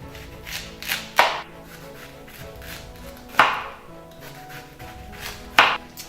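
A knife roughly chops garlic cloves on a cutting board, with a few loud, close thuds spaced a second or two apart and lighter taps in between.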